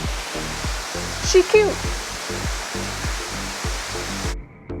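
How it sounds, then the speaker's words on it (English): Rocky Mouth Waterfall, a small spring-fed fall about 40 feet high in Utah, pours over rocks as a steady broadband rush, with a brief voice and a rhythmic low thumping over it. "Just sit back, relax, and enjoy watching the water flow over the rocks."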